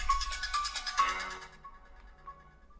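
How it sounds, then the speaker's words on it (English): A telephone ringtone plays at moderate volume with repeating bright electronic tones over roughly a second and a half, then fades to quieter trailing notes, with no talk. "My telephone's ringing."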